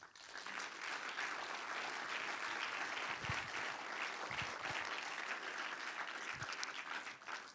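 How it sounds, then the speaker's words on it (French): Steady, full crowd applause at a festival closing ceremony, continuous clapping throughout, fairly distant and even in loudness. "On les applaudit aussi."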